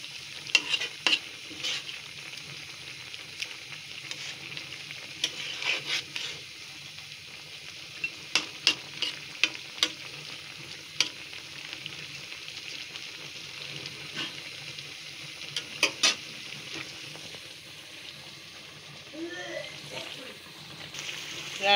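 Boal fish curry with chopped coriander leaves cooks in a pan, a steady soft simmering sizzle with frequent scraping and clinking stirs throughout.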